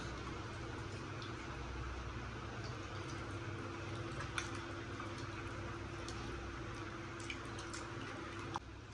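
Tamarind juice goes into a simmering fish curry, giving a steady, soft bubbling and hissing with scattered small pops and drips, faint and unbroken for the whole stretch, with no talking.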